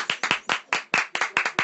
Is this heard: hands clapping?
yes